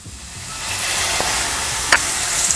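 Beef and squash sizzling while being sautéed in a pan, a steady close frying hiss with a couple of brief sharper spatters near the end and no voices.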